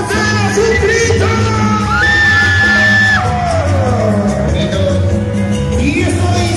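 A festival crowd in Paucará, Huancavelica, yells and whoops loudly in a sustained group shout, with rising and falling cries held close over a dense background of voices and music.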